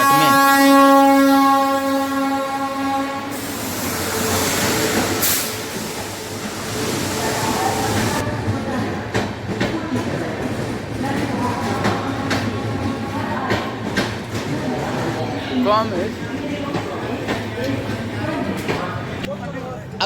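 The Kashi Patna Jan Shatabdi Express, train 15125, pulls into a station with a loud horn at first, then rumbling wheels and rhythmic clickety-clack of rail cars passing close, with station noise and scattered clanks throughout.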